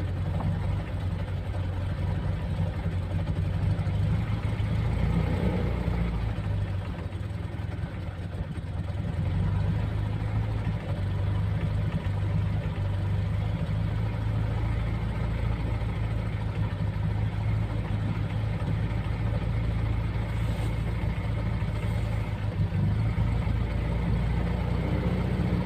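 A warmed-up Fiat 126P engine idles in a steady, even low drone that holds at constant loudness, with no voices over it.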